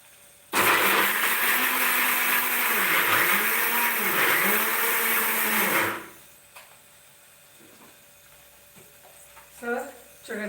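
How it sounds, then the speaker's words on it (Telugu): A kitchen mixer grinder blends two green chillies with a loud, steady whirring roar and pulsing motor pitch for about five seconds, then switches off, leaving a quiet room with faint clinks. "ఒక రెండు పచ్చిమిరపకాయలు వేసి వీటిని గ్రైండ్ చేసిస్తాం"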